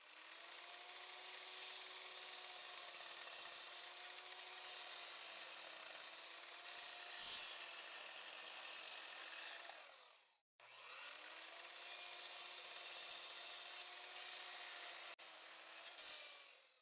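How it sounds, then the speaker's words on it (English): A miter saw cuts through a wooden board, a steady loud whine with a grinding rasp that runs for about ten seconds, stops briefly, then starts a second pass of similar length. "On the miter saw, I'll cut this piece to exactly 1 meter in length."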